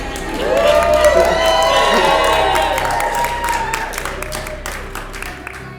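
Wedding guests at a barn venue cheer, whoop and applaud after a toast, a loud crowd swell that holds steady and then slowly fades over several seconds.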